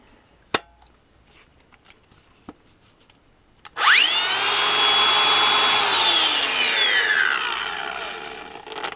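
A Makita DGA504Z 18V brushless 125mm cordless angle grinder on a DeWalt battery starts with a click and whines up to a loud, steady high-pitched spin, slowly winding down near the end.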